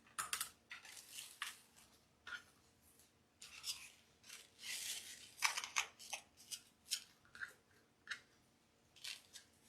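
Scissors snipping a dovetail end into ribbon for a retro 1970s Christmas wreath, a string of quiet crisp cuts and rustles, close up and faint, no voices.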